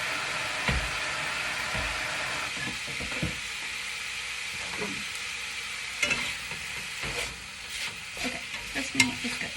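Ground meat sizzling in a hot pan for Mexican rice, a steady bright frying hiss broken by repeated scraping and knocking stirs of a utensil against the pan, with no talk.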